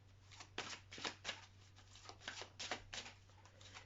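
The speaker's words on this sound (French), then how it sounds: "On va prendre le Golden Lenormand et je vais tirer que 3 cartes." Golden Lenormand oracle cards being shuffled by hand, giving a run of quiet, rapid riffling bursts that repeat in an uneven rhythm, close up and alone.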